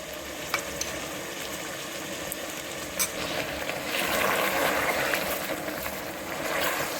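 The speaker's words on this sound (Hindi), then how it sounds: "गोश्त को भूनते हुए मुझे 10 मिनट हो चुके हैं।" Beef sizzling steadily in a hot pan as it is browned for nihari, with occasional scraping and clinks as it is stirred, close and continuous.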